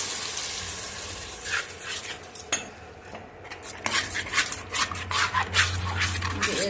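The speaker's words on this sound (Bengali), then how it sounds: "পেস্ট করা টমেটোটা দিয়ে দিলাম।" Tomato paste fries in a pan while a spoon stirs it, metal utensil scrapes and clinks against the pan in irregular bursts over a soft background sizzle, fairly close.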